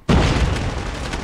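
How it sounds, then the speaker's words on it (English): A grenade goes off in the Call of Duty Mobile shooter, one sudden loud close blast that cuts in from near silence and rumbles on as a broad roar for about a second. "Chucking this. Grenade out!"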